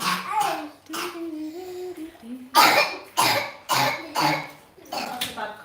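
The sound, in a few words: cough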